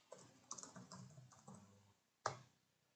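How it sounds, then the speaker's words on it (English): Keys clatter in a quick burst of typing, several soft clicks close by, then a pause and one sharp louder tap. "I just start typing to the right"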